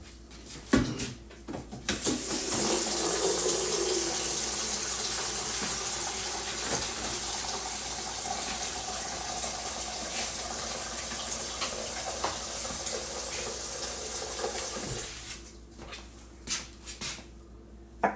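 Tap water runs steadily into a crock pot being prepared with ground beef, a continuous loud hiss and splash lasting most of the stretch, then cutting off as the faucet closes.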